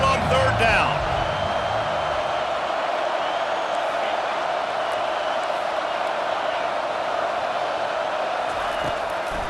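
A home crowd at a Georgia vs Ole Miss college football game roars on a third down, a loud sustained wash of cheering from a big stadium that stays steady throughout, with a short burst of extra noise near the start.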